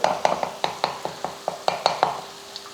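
Three eggs with salt are stirred in a pan. A utensil clacks against the metal in a quick, regular rhythm of about a dozen sharp taps, close and fairly loud, with no talking.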